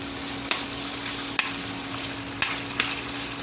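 Pinakbet with pork frying in a pan, a steady close sizzle broken by a few sharp scraping knocks as the mixture is stirred, about four distinct strokes.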